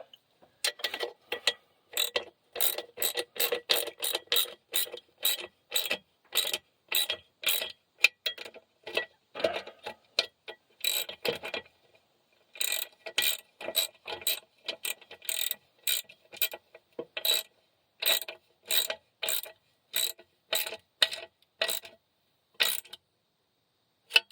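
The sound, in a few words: ratchet tightening bolts on 1965 Mack B61 dump truck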